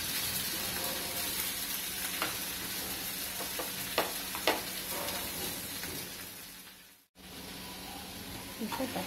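Onions sizzling in hot oil in a pan for Bangalore-style mutton curry, a steady bright frying hiss with a few stirring clicks and a brief dropout near the end.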